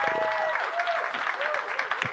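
Viewers clap at the GPT-4o announcement, a moderate burst of applause with faint tonal sounds and overlapping voices mixed in, fairly close and lively.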